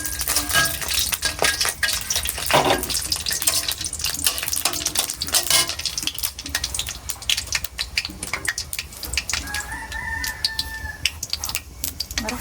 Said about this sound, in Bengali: এখন কড়াইয়ের আমি তেল দিয়ে দিচ্ছি, শুকনা মরিচ